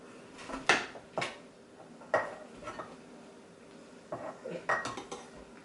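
A utensil scraping cake batter around a mixing bowl, heard as several distinct clinking, scraping strokes spaced out over a few seconds, close and fairly clear.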